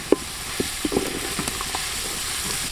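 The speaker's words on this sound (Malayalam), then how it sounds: "പച്ചമുളകൊക്കെ ഒന്ന് ചെറുതായിട്ടൊന്ന് വഴറ്റിയെടുക്കാം" Green chillies sauté in a pan for Kerala fish molee, with a soft, steady sizzle and a few light stirring clinks close by.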